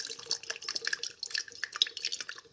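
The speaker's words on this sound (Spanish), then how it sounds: "Yo echo aquí el agua caliente." Hot water poured from a container into a vessel during a physics and chemistry demonstration on vacuum, a brisk, close splashing and trickling pour with dripping accents, heard alone without talk.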